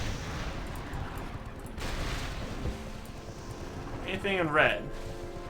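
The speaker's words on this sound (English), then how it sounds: "Seems like the cannons are attacking or something." Cannon fire rumbles through a World of Warcraft battleground, a few heavy booming blasts under steady game noise, with someone speaking briefly near the end.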